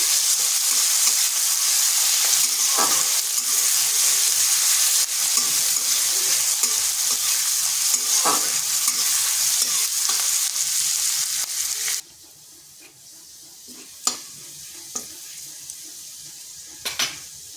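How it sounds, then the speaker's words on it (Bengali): Sliced onion and chopped garlic sizzle loudly in a pan while being stirred, a dense steady hiss that suddenly drops away to near quiet with a few scattered clinks near the end. "আর দিচ্ছি রসুন কুচি। এগুলোকে একটু ভেজে নিচ্ছি।"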